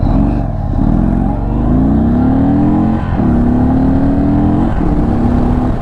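A 2022 Indian Chief Dark Horse motorcycle pulls away from idle, its steady engine drone rising in pitch through a few gear changes, loud and close with no talk.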